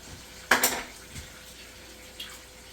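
Wine poured into a pan of chicken thighs with mustard and leeks, giving a short sizzling splash and a brief liquid burst, followed by a faint later clink.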